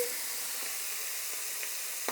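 Steady, quiet sizzling of asparagus chicken rolls frying in a hot pan without added oil, a continuous hiss with a few small pops.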